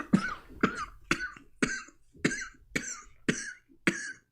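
Eight harsh coughs from one person in a podcast setting, evenly spaced about half a second apart, close and loud with quiet gaps between each burst.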